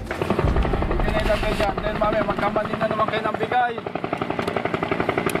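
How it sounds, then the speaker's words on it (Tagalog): Bell UH-1 helicopter flying, its rotor chopping in a rapid rhythmic thump with turbine whine, loud and close, under a voice talking over it. "They will be jumping out of a Bell UH-1 helicopter."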